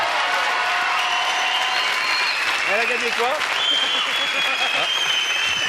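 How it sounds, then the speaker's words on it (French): A television studio audience applauds a guest with dense, sustained clapping that stays steady throughout, while voices talk and shout over it up close. "C'est applaudissements pour elle."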